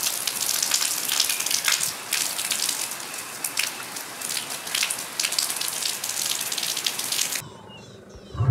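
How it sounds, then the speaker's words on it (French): Steady rain falls on a morning in a South African game reserve, a dense broadband hiss of drops pattering close and continuous before cutting off abruptly near the end. "ce matin, il pleut encore."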